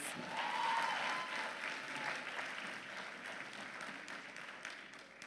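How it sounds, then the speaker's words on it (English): Sustained applause from an audience at an alpha course ceremony, dense steady clapping that swells early and then holds at a fairly even level throughout. "Let's give them another round of applause"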